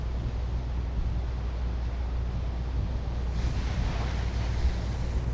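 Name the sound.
ocean waves breaking on the shore in Bali on a windy day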